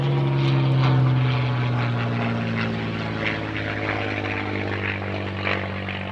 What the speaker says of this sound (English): The fantastic sight of a single propeller, vintage.